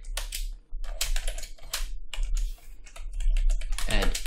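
Code typed on a computer keyboard during a C++ session, rapid clattering keystrokes in quick bursts up close, with brief gaps between runs.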